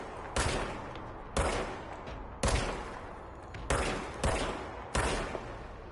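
Five single gunshots from the self-reloading service weapon in the video game Control, fired at a steady pace about a second apart, each a loud, sharp crack with a short decaying tail, with no talking.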